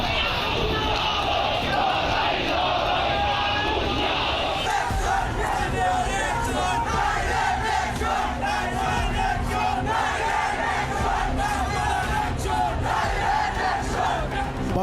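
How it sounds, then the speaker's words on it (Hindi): A frenzied crowd of radicals chants slogans in a street in Bangladesh: a dense mass of shouting voices that stays loud and continuous throughout, with rising battle-cry surges. "सड़कों पर कट्टरपंथियों की उन्मादी भीड़ डायरेक्ट एक्शन दोहराने का नारा लगा रही है"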